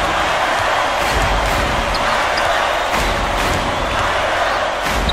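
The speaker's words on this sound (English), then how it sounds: "This crowd is going insane." Loud arena crowd roaring and cheering steadily at a 1979 NCAA Tournament college basketball game, Penn at Arkansas, a dense continuous wall of noise with no clear talk over it.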